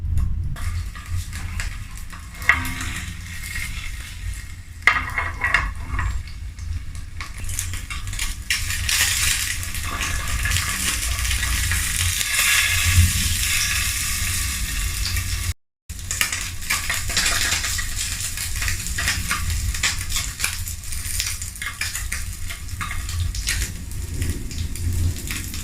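Salmon fillet frying skin side down in a hot pan for a crispy finish, giving a steady, dense sizzle and crackle that runs continuously at moderate loudness, with a brief dropout partway through.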